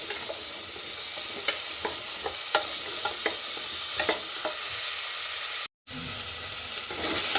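Continuous sizzle of tondekayi (ivy gourd) frying in a pan, with regular scraping stirs every half second or so and one brief cut to silence.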